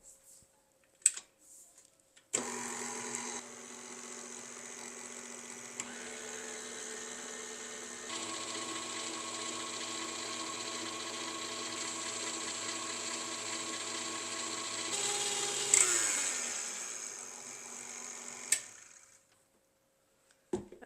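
An electric mixer beats thick buttercream icing thinned with half and half, a steady whirring drone that runs for about thirteen seconds and shifts pitch midway, with a few clicks at start and stop.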